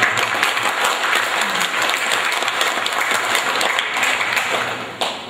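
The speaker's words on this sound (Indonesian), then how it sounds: "marilah kita beri aplaus bersama" A seminar audience gives sustained applause, a dense, loud wash of many hands clapping steadily for several seconds before it fades near the end.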